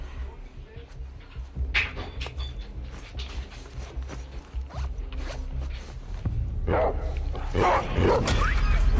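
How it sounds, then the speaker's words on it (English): Dogs in The Last of Us Part II barking in bursts amid game combat and movement noise, fairly loud and growing busier toward the end, with rustling and mechanical sounds mixed in. "These dogs are so annoying."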